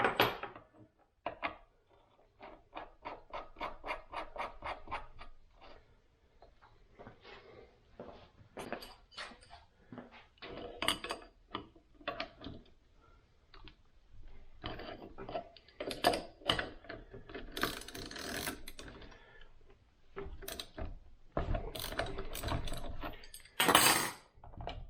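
A puller tool works a part off a 2000 Honda CR125R two-stroke engine during a rebuild, making a long run of quick metallic clicks and ratcheting ticks with scattered louder clanks, close and alone without talk.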